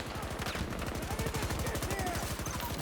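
Gunfire in the Battlefield video game comes as a rapid, evenly spaced stream of sharp shots that stays steady and fairly close throughout.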